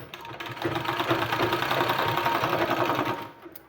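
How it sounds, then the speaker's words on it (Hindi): A sewing machine runs a seam along a two-colour, 1.5-inch fabric strip for a sleeve design, giving a steady, close, rapid mechanical chatter that tapers off at the end. "इस तरह से इसको सिलाई लगा देना है।"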